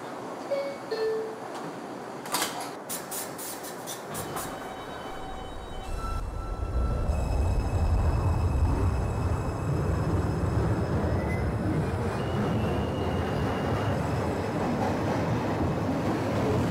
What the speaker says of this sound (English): This is a Manhattan bound number 6 train